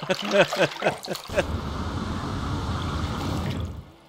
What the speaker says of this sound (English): he's gone a bit too far and landed in the water